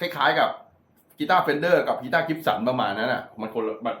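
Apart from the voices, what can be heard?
No everyday noise stands out behind the speech.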